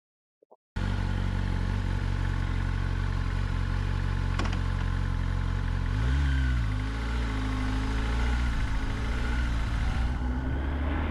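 A 2025 Kawasaki Ninja ZX10R sport bike fires up with a sharp burst and settles into a steady, loud, close idle with slight fluctuations in pitch, running continuously with no talking.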